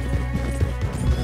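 Horse hooves clip-clop in a steady, close rhythm in the video game Red Dead Redemption 2, with no talking over them.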